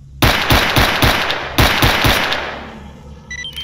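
Two rapid bursts of automatic gunfire fired at a boar in STALKER Anomaly, loud and close, each a quick string of about five shots, followed by a decaying echo.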